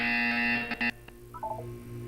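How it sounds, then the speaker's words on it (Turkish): Loud electronic buzzer from the video game Portal 2: a harsh, steady tone that cuts off sharply after about a second, followed by a few faint, short beeps against a quiet, humming background. "You will hear a buzzer."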